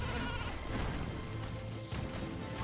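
Sheep bleating in the Skylanders Trap Team video game, a wavering animal cry heard over a busy, dense game soundtrack with scattered impacts, fairly steady throughout.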